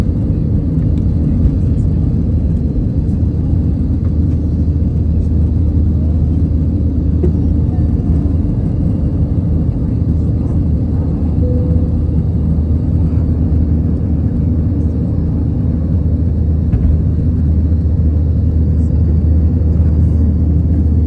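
A loud, unbroken low roar and whir of aircraft engines heard from inside the cabin on an India-to-USA flight, droning evenly the whole time.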